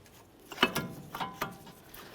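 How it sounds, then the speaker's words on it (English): A brake caliper bolt on a Mercury Grand Marquis is worked loose with a ratchet, a few short close metallic clicks and ticks in quick succession, quiet and alone. "fully remove that first bolt"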